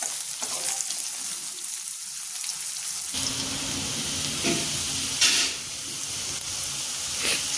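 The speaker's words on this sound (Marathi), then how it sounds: "आता कांदा पण असतात छान गुलाबी रंगावर आपल्याला तळून घ्यायचा आहे" Onions frying in oil in a pan while cooking a crab curry, a continuous close sizzling hiss that swells after a few seconds, with occasional stirring clinks and scrapes and no talk.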